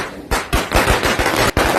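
Firecrackers burst during a Diwali celebration, a loud, rapid string of sharp cracks rattling off in quick succession.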